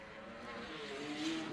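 A BMW E36 drift car in a drift battle, its engine a steady moderate drone that rises slightly in pitch, heard at a distance under broadband track noise.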